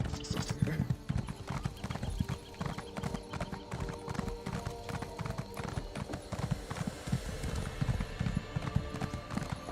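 Horse hooves clip-clopping in The Elder Scrolls Online, a fast, continuous stream of close hoof falls that keeps going for several seconds over a busy game background.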